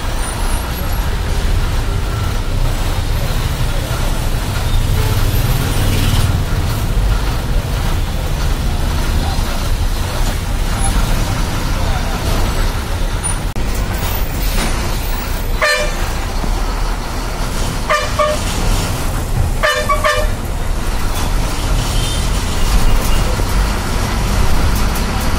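Heavy Chennai city traffic heard from inside a TNSTC yellow bus, a continuous loud rumble of engines and road noise broken by several sharp horn toots in the second half, some in quick pairs.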